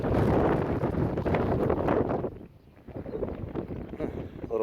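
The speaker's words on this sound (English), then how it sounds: "A little windy." Wind gusting across a no-till soybean field, a loud broadband rush on the microphone that eases briefly midway and then builds again.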